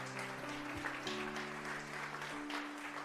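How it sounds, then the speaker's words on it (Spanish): A church congregation at an evening service applauds under steady organ or keyboard chords, the clapping soft and diffuse, blended with the sustained music throughout. "Denle un fuerte aplauso al Señor en esta tarde"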